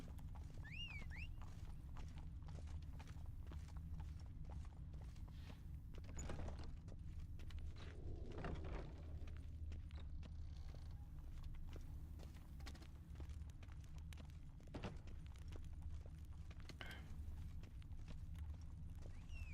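Roach the horse from The Witcher 3 gallops along a footpath with steady, close clip-clop hoofbeats over a low ambient game soundtrack, a few brief tonal calls breaking in near the start.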